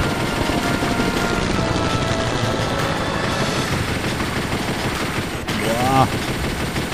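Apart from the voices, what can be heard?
cannon gunfire in the video game Chase the Express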